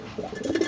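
A pigeon gives a soft, low cooing call at close range, a short rolling murmur.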